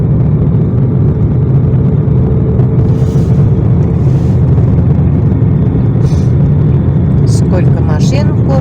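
City car traffic rumbles in a continuous loud low drone of engines and tyres, with brief higher squeaks and hisses near the end, heard close and unbroken.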